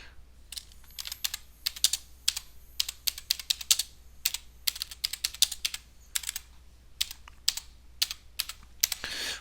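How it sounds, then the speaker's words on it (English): Keystrokes on a computer keyboard as a comment is typed into a spreadsheet, quick bursts of close, crisp clicks separated by short pauses, with no talking. "And you simply type the comment in the text box."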